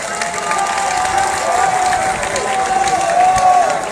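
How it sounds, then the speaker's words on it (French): An audience applauds steadily at a community welcome event honoring Simone Gbagbo, a dense continuous clatter of clapping from a crowd, mixed with voices and some music-like tones. "Vous pouvez applaudir pour elle."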